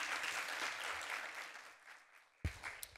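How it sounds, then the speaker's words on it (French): Audience applause at an industry conference panel, a moderate wash of clapping that fades out after about two seconds, followed by a couple of sharp thumps and brief clatter. "Je vous invite à applaudir les personnes que je vais vous présenter, s'il vous plaît."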